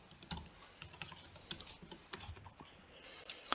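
Quick, uneven keystrokes on a computer keyboard as a dummy phone number is typed into a form in school management software, with close, crisp clicks and no talking.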